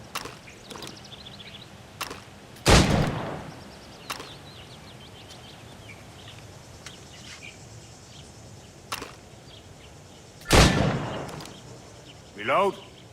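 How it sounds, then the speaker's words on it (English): Two loud, sharp gunshots at targets in Assassin's Creed Rogue, well spaced over quieter ambient game sounds, with a brief whooshing sweep near the end. "Go on. Shoot these targets."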